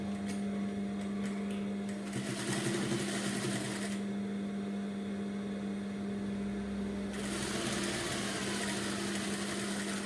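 Sewing machine stitching a folded strap onto the waist edge of a size 28 bra, a steady close mechanical whir with a constant motor hum running throughout, briefly easing off in the middle before resuming.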